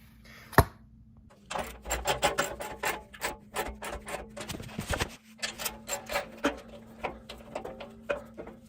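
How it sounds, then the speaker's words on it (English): A 13mm socket wrench ratchets rapidly while tightening bolts on Rivian R1T running boards. The close, crisp clicks come in quick bursts with brief pauses between them, and a low steady hum sits underneath. "for these bolts, I am using a 13mm socket wrench"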